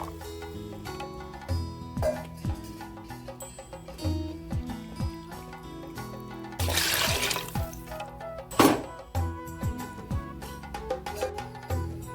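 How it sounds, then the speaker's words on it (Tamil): Water is poured into a pot of goat leg curry, a splashing pour burst mid-way followed by a second short splash, amid clinking and kitchen handling sounds, with no talking. "தேவையான அளவு இந்தளவுக்கு தண்ணி ஊற்றிக்கலாம்"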